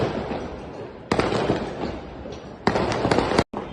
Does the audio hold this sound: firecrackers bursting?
yes